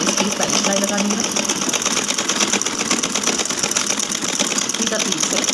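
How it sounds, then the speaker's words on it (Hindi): Sewing machine running continuously while stitching the side seam of a kurti, a fast steady mechanical chatter close up, with a voice speaking over it at moments. "इस तरह से मैंने इसको घेरे तक जो है इसकी पहली सिलाई लगानी है।"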